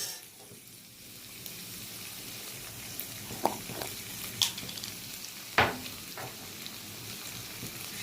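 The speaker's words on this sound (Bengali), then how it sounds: "পনিরটা একটু সাদা তেল দিয়ে ভেজে নিলাম।" Paneer fries in white oil in a pan with a soft, steady sizzle, broken by a few sharp utensil clinks and stirring sounds, quiet and close.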